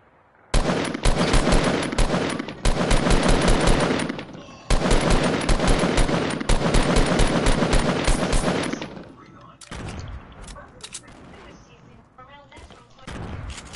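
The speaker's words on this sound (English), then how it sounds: "Who's shooting my shit?" Long, rapid bursts of automatic gunfire in Fortnite, loud and close, with sustained strings of shots broken by short pauses and then scattered single shots, while players talk over it.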